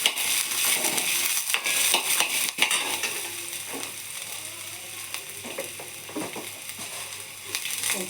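Garlic fries in hot oil for a village-style egg curry, giving a steady close sizzle broken by scraping, clicking stirs of a spoon against the pan, with no talking.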